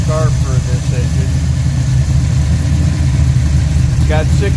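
A Pontiac 455 V8 with ported 6X heads and a Quadrajet carburetor idles loudly and steadily on a test setup, its lumpy low rumble continuous under brief bits of speech.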